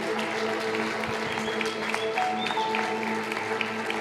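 A church congregation applauds in a soft, continuous patter that sits back in the room, with sustained tones from instruments playing underneath.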